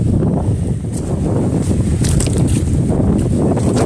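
Loud, gusty wind roars across the microphone with rumbling buffeting and a few sharper whooshes, no voices present.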